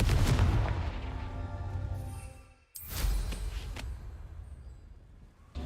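A Confringo fire spell blast in Hogwarts Legacy gameplay booms loudly: a dense burst fades over two seconds, then a second sharp blast hits and rumbles away, with steady game ambience underneath.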